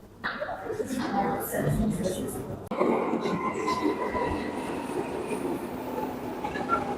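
Rumble and rattle of a Berlin U-Bahn metro train in motion, steady and continuous with clattering wheels and occasional squeals, with people talking nearby.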